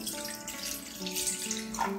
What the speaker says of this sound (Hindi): एक से डेढ़ ग्लास पानी डाल लेंगे